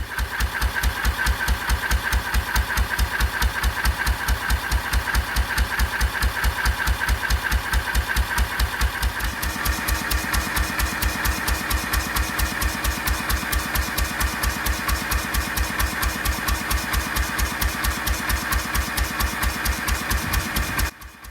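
A 1926 National stationary engine running on kerosene chugs steadily in a fast, even rhythm, loud and close, its firing pulses continuing without pause until it cuts off at the very end.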